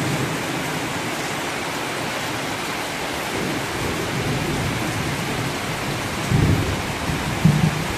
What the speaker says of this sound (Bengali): টিপ টিপ করে বৃষ্টি পড়তেছে।